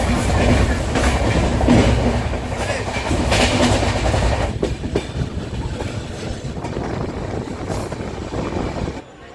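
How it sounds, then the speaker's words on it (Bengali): A Jan Shatabdi express runs from Haridwar toward Delhi, heard from on board: a loud continuous rolling rumble with rhythmic clickety-clack, easing into quieter running near the end. "এখান থেকে জনশতাব্দী ধরে দিল্লি যাব"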